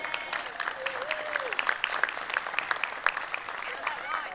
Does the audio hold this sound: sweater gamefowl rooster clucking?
no